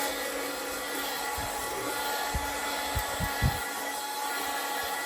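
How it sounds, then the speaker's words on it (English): A small handheld vacuum cleaner runs continuously while cleaning a pantry shelf, its steady high whine close and loud, with a few brief knocks and bumps as it moves across the surface. "This is a handy little vacuum."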